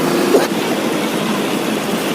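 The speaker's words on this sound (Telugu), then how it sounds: "నీరన్నీ లాగేసినాయి మోటార్లు పెట్టి లాగేస్తున్నారు" Motor pumps drain floodwater in Vijayawada after the floods, a steady loud mechanical drone that holds without a break, with a short knock near the start.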